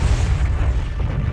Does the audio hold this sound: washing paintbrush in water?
no